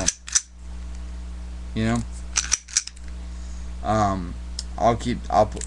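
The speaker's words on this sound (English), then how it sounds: "if you pull in this trigger just a little bit and you put safety on, boom, safety's on. You heard that click." Handgun safety lever being clicked on, a few sharp close metallic clicks interspersed with someone talking.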